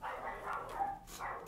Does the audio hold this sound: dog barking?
yes